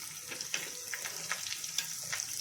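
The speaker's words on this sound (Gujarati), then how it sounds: "આ રીતે જીરું થોડું તતડી જાય એટલે તેમાં વ્હાઈટ તલ નાખી દેવાના" Cumin seeds and green chilies crackle in hot oil, small sharp pops scattered over a soft, steady sizzle, fairly quiet and close.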